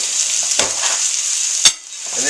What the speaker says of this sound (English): Now when browning meats, put it in the pan, let them stay, walk away, turn your face, and let them brown.